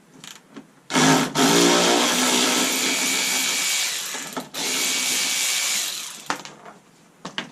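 A power drill spins a headlight bolt out of a 2005–2008 Ford Focus in two loud, sustained whirring bursts with short pauses and a few clicks between them.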